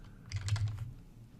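A quick burst of keystrokes on a computer keyboard, a short run of close, soft clicks lasting about a second.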